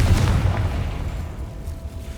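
Confringo fire-blast spell going off in Hogwarts Legacy, a loud low boom at the start that rolls into a rumbling decay and sustained low crackle, with no talking.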